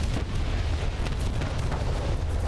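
A tank cannon firing in the War Thunder video game, heard as a dense, sustained rumbling boom with heavy low end and scattered crackle across the whole moment, loud and close, without speech.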